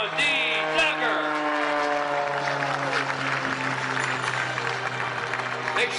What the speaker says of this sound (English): Let's give one final round of applause for Mr. Sean D. Tucker.